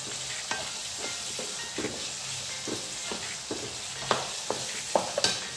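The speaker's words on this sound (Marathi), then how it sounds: "सगळ्या भाज्या अगदी छान व्यवस्थित फ्राय करून घ्यायच्या आहेत।" Mixed vegetables including cauliflower frying in a pan, a steady soft sizzle broken by repeated scraping stirs, close and fairly quiet.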